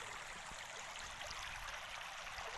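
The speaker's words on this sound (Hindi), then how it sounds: "आप वो फीलिंग लें, वो एहसास लें जो ये आवाज़ आ रही है पानी के बहने से, नेचुरल साउंड" Water flowing across a road makes a faint, steady rushing like a stream, continuous and even with no voices.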